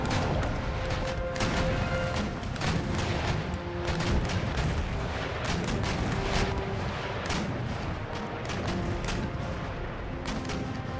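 Rolling broadside cannon fire from sailing warships in an Empire: Total War naval battle against a fleet including a first-rate ship and a heavy privateer: dense, continuous loud booms and crackling volleys overlapping for the whole stretch.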